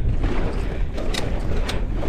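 Steady wind roars across the microphone at a mountain bike park, a continuous loud rush with a couple of brief gusty swells and no talk.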